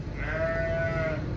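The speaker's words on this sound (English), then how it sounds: "Let's go and have a look at the sheep." A single sheep bleats once on a farm at lambing time, a short, wavering, nasal cry heard close and clearly over quiet background.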